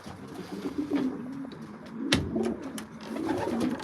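Racing pigeons coo softly and repeatedly close by at their loft, a series of low throaty calls with light rustling and clicks between them.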